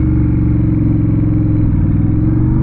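Honda Rebel 1100 motorcycle engine fitted with a new aftermarket exhaust, running loud and close with a deep, steady throbbing rumble and a slight uneven burble, no voices.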